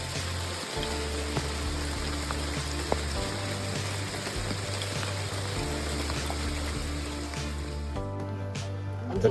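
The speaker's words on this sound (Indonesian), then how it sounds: "kami ditemani rintikan hujan yang membuat perjalanan sedikit lebih lama" Steady rain falls on a forest trail on Mount Kerinci, a constant hiss of drops on leaves and wet ground. Soft background music plays beneath it throughout.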